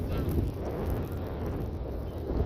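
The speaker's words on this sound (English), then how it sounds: "Part of Germany there's a lot of wind" Strong wind in northern Germany buffets the microphone, a dense, loud rumbling roar with gusty swells throughout, and no voices.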